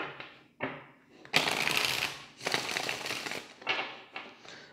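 Tarot cards being shuffled by hand, close and crisp, in several bursts of riffling and flicking separated by short gaps, with no talk over it.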